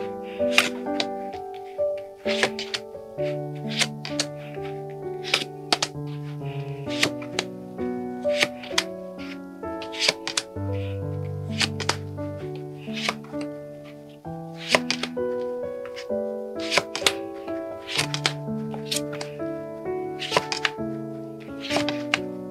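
Tarot cards are shuffled with repeated sharp snaps and taps at an irregular rhythm, set against soft melodic background music.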